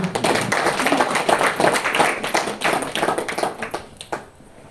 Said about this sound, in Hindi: वेरी गुड, तालियां बजाइए उनके लिए।